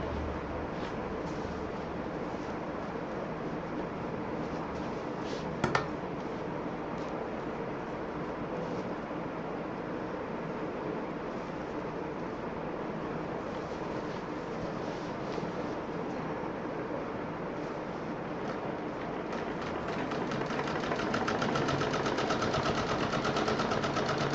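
A sewing machine runs steadily at close range while stitching the seams of a multi-utility bag, a continuous mechanical whir that lasts throughout with one brief click near the middle and no speech.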